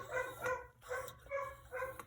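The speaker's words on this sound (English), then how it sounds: "with the dog being excited" An excited dog barks nearby during an indoor mountain stove repair, letting out a steady run of about four sharp, moderately loud barks.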